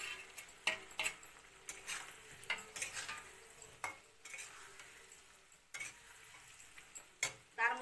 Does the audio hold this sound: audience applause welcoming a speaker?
no